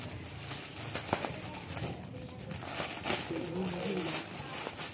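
A knife slices open a plastic package of T-shirts during an unboxing. Close crinkling and rustling of plastic come in bursts throughout, mixed with people talking nearby.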